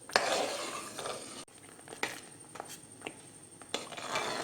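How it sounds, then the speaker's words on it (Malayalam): A spoon scraping and clinking against a pan while gooseberry lehyam is stirred, intermittent close knocks and scrapes over a soft background hiss. "നമ്മൾ ഇവിടെ വെച്ച് തന്നെ നിന്നുകൊണ്ട് ഇളക്കി കൊടുത്തുകൊണ്ടിരിക്കണം"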